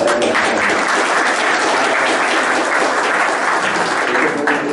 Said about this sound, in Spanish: gracias por el aplauso